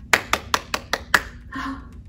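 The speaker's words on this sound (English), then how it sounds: "Give a little clap." Six evenly spaced hand claps ring out in a steady rhythm, close and crisp, from a group of children, followed by a short murmur of voices.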